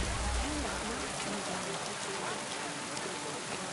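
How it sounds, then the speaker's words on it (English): Heavy rain in Kingdom Come Deliverance 2 makes a dense, steady hiss that fills the whole clip, with voices faintly underneath. "Pissing down rain."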